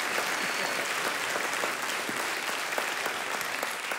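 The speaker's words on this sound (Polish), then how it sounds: "Wielkie brawa dla pana Kamila." Dense, sustained applause from a cabaret audience for a volunteer on stage, loud and steady throughout with no pauses.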